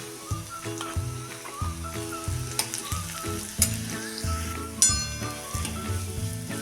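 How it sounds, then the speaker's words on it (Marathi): Ground peanut paste sautéing in a pan with a pinch of asafoetida, a steady close sizzle broken by stirring scrapes and a few sharper spatters, with low hum in the background. "त्यात आता आपण हे शेंगदाण्याचं वाटण करून घेतलेलं ते परतून घेणार आहे"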